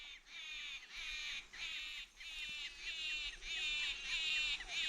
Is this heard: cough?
no